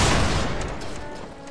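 Musket volley fired by a line of soldiers in the Battle Grounds III game, a single loud rolling boom of many shots merging into one blast that decays over a second or so.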